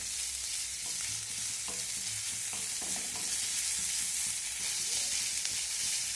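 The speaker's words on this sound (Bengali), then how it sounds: "পেঁয়াজটাকে দিয়ে আমি আবারও প্রায় মিনিট 2 নাড়াচাড়া করে ভেজে নিয়েছি।" Sliced onions stirred and lightly fried in a pan, a loud continuous sizzle with intermittent spatula scrapes and taps throughout.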